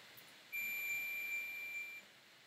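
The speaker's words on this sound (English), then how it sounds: "I'm just going to touch them together." A single steady electronic beep from a multimeter's continuity setting as its probes touch together, clear and lasting about a second and a half over a quiet background.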